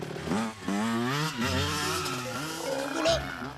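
A motorcycle engine revs and whines, its pitch climbing and dropping in swells over roughly three and a half seconds, fairly close and with no talking.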